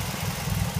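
A Chevy Cavalier Z24 convertible engine idles with a modified exhaust, a steady low, throbbing rumble close by, alone with no talking.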